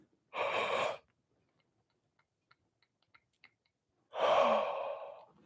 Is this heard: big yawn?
yes